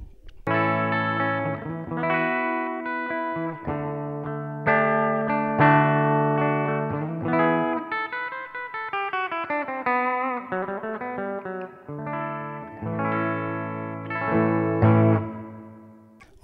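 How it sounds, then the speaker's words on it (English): An electric guitar with a clean, undistorted tone plays a steady run of ringing notes and chords for about sixteen seconds, alone and close, with clear sustained tones. "first I'm gonna show you my guitar with just a regular clean sound"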